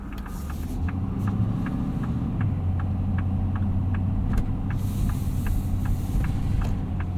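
Inside a 2026 Ford F-450 Super Duty Platinum dually with a 6.7L Powerstroke diesel merging onto a highway, a steady low engine and road rumble runs under a rhythmic ticking turn signal.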